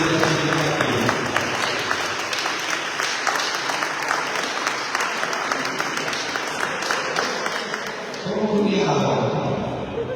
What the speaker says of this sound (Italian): Un applauso per i primi secondi e terzi classificati.